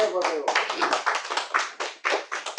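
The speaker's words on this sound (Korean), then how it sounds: "이럴 때 박수 치는 건데 참." A small group claps in quick bursts of sharp, close hand claps, uneven in rhythm, with talking running underneath.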